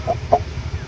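Chickens and an Aseel rooster feeding in the morning, giving two short close clucks over low, steady background noise.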